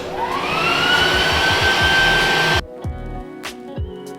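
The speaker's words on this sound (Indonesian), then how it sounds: "ini hair dryernya nih" A hair dryer in a villa bathroom roars loudly at close range with a rising whine, runs steadily for a few seconds, then switches off abruptly, leaving quiet room noise.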